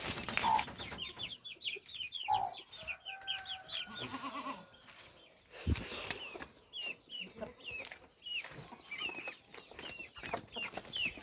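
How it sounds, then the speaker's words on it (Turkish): Chickens cluck and chirp throughout, with high peeping chicks mixed among fuller hen calls, busy and close, plus a brief thump midway. "şurada da var o civcivlerimize."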